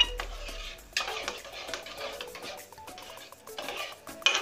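A spoon stirs butter chicken curry after strained tomato paste and gravy go into the pan, making soft scraping and clinking strokes against the metal with brief louder knocks.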